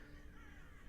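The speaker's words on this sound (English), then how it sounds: "It's just me and a bunch of crows." Crows cawing in the horror game Gray Dawn, faint and distant beneath a steady wash of ambient noise, with no other sounds standing out.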